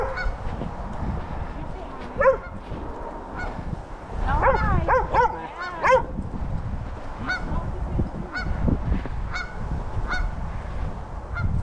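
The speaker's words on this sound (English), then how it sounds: "That's a very vocal goose right there that Winston's very interested in." A goose honks loudly and repeatedly outdoors on a snowy winter day in Menomonie, Wisconsin. A cluster of close honks stands out over steady background noise, with scattered calls before and after.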